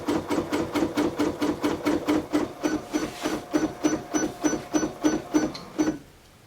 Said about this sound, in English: We're going to let it do its basting box. It's going to go all the way around the design.